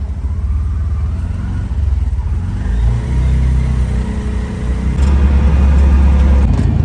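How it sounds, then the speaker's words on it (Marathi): A car pulls away and drives off, a loud close engine rumble and whir that builds as it accelerates, with no talk. "आता परत आपली गाडी निघाली मुंबईकडे."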